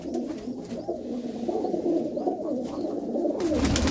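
Pigeons kept by a Punjabi pigeon fancier, including a blue-bar and a black bird, coo in low, throaty rolling bursts. The sound is fairly close and runs steadily throughout, with a fuller flutter near the end.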